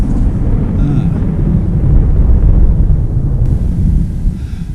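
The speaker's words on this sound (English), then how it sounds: "Thunder." Deep thunder rumbling over a mountain, a broad, continuous low roar that swells and holds for several seconds, mixed with wind buffeting the microphone.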